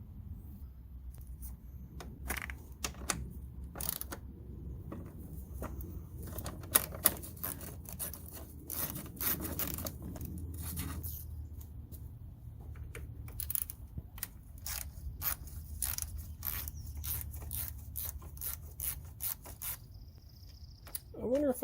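Bolts being removed from a 2010 Mini Cooper S during front end removal, heard as scattered sharp mechanical clicks and ratcheting taps in an irregular rhythm, close by and fairly quiet.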